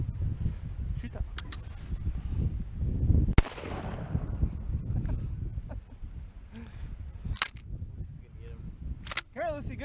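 A Winchester 1897 shotgun fired at a pheasant during a hunt: one sharp, loud report cracks out partway through, set against wind noise and excited voices, with bird calls nearby.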